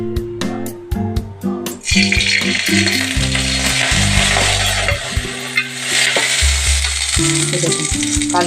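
Black cumin seeds dropped into a small amount of hot oil sizzle steadily and loudly after a quiet start, a continuous hiss running under a low background tone.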